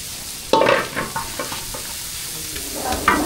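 Small taki fish frying with onion in a busy restaurant kitchen, a steady sizzle with a few sharp stirring scrapes and clatters near the start and end.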